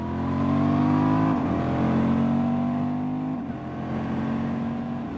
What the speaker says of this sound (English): Here we go with the exhaust.